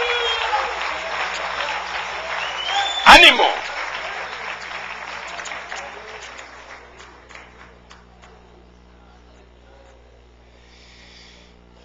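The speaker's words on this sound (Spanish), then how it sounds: "¡Dale un aplauso al Rey!" A church congregation applauds during a Spanish-language sermon, with a loud burst of clapping and cheering early on that gradually fades away, while a preacher shouts and speaks over it.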